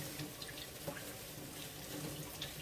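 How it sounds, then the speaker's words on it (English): Tap water runs steadily while raw chicken is rinsed in a pot in a kitchen, a soft continuous splashing wash with faint drips, quiet and with no talking. "So, I'm rinsing my chicken, and I'm putting it into my pot."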